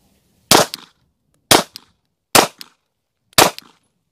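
Four loud, sharp pistol shots fired close by at a target during point-shooting self-defense practice, each crack ringing out alone and spaced about a second apart with brief decays and no talking.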